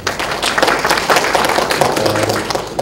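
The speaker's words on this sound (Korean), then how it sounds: "모두 박수로 강사님을 맞으시기 바랍니다" An audience at a materials-science conference tutorial session applauds to welcome a lecturer, a steady dense wash of clapping from many hands lasting a few seconds.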